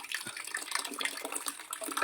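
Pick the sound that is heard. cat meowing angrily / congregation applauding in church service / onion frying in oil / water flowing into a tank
water flowing into a tank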